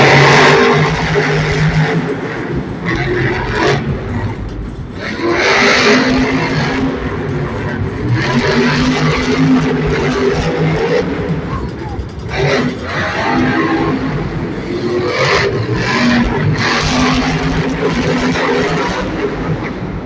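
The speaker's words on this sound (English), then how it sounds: "Tristan England, JCB Digatron, trying to steal away the victory and get his first racing win" Monster Jam monster trucks racing in a St. Louis arena, including the JCB Digatron: loud, continuous engine roaring and revving with crowd noise, and an announcer talking over it throughout.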